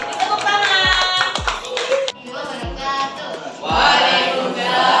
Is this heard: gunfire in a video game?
no